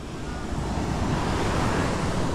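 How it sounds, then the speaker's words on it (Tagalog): Sea waves wash continuously onto the shore in a broad, steady roar, close and loud, mixed with gusty wind buffeting the microphone. "Ano, dagat."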